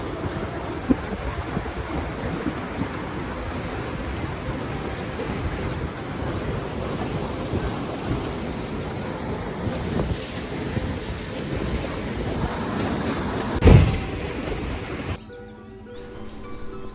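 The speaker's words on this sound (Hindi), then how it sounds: "पानी के झरने की साउंड कितनी क्रिस्टल क्लियर आ रही है" A mountain waterfall rushes as a steady, broadband roar mixed with wind buffeting the microphone, with a brief louder thump near the end before the sound drops away.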